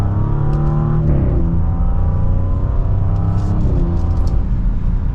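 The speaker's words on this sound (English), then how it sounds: "Definitely has a good sound to it, and that was just a mild acceleration." A 2025 Audi S6 sedan in dynamic mode pulls hard in second gear, its engine note rising steadily and loud and close, with a brief dip and climb as revs settle, no voices over it.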